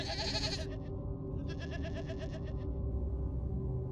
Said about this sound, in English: I heard the goats making a commotion.